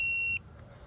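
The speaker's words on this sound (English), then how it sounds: "You'll hear an audible beep." A Vesafe tire pressure monitor powering on gives a single short, high electronic beep, clear and close, cutting off abruptly into near silence.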